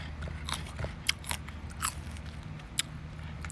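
A few crisp, crunchy bites into firm cherry plum, sharp snaps spaced apart, close up against a quiet background.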